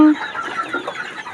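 Several Fayoumi chickens cluck softly together in a brief burst, fairly close.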